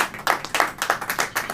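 A church congregation claps in a steady rhythm during a worship service, about six firm claps spread over a second and a half, loud and close.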